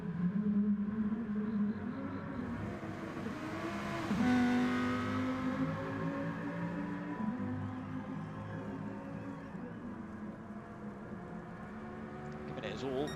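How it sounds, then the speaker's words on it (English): A Lamborghini Gr3 race car drifts around the Red Bull Ring in a racing game, its engine droning and shifting pitch steadily beneath a commentator talking throughout. "Is he enjoying the drifting in the Lamborghini,"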